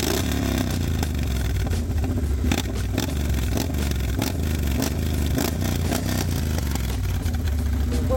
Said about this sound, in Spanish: ya está prendida, ya está calientita la moto